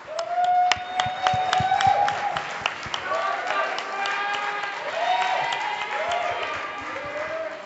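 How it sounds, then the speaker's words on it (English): Applause and cheering for a candidate named Saffron at a 2014 students' union election results night. Many hands clap under a mix of crowd noise, with several tonal swooping sounds recurring over it. "if you could please give Saffron a round of applause"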